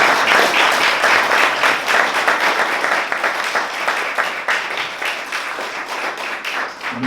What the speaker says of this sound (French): on va applaudir toute l'équipe d'Escondiac